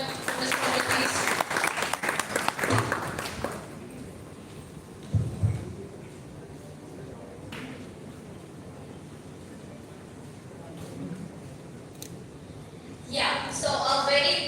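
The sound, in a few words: audience applause for workshop facilitator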